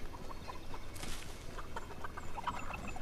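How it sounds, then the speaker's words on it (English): Chicken clucking in the video game Fortnite, a few soft, short clucks scattered over steady background game noise, with no one talking. "There's another chicken, I wanna kill it."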